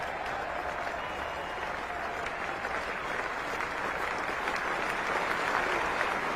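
Steady crowd applause at Lord's during the 1996 England v India test, greeting a batsman's fifty; broad continuous clapping from a large distant crowd sustained throughout, swelling slightly toward the end.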